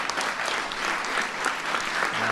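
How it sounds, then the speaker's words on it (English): An audience at a science fair event with Barack Obama breaks into brief, close, dense applause, a steady wash of clapping. "Give him a big round of applause."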